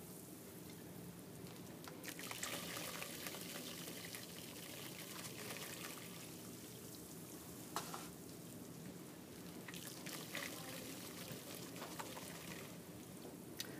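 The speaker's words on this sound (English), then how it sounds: "I'm going to scoop plaster and I'm going to sift it through my fingers" Plaster sifted by hand through the fingers into a bucket of water makes a steady, close, soft hissing patter like light rain, continuous throughout with small swells and no talking.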